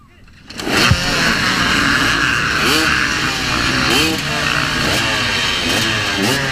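Motocross dirt bikes revving together at the start of an expert-class race, a loud close engine roar swelling in and holding, with repeated rising revs from several bikes and a crowd murmur beneath.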